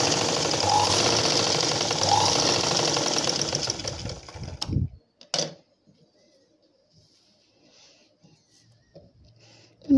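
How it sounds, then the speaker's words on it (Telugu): A sewing machine runs steadily while stitching a blouse, a loud close whirring hum that cuts off after about five seconds, followed by a couple of clunks and quiet handling. "ఈ విధంగా ఎక్స్ట్రా భాగాన్ని పైకి తీసుకొని పైన స్టిచ్చింగ్ చేసుకోవాలి"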